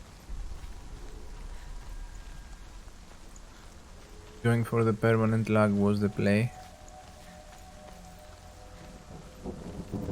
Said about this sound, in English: Oh, more rain.